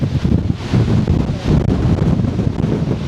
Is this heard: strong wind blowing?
yes